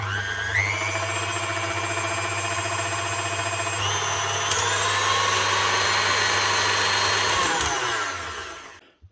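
A brand-new KitchenAid Artisan 5KSM185PSBCA stand mixer motor runs at speed with a steady whine and shifting tones, an underlying rubbing hum, loud and continuous before winding down at the end, with no talk.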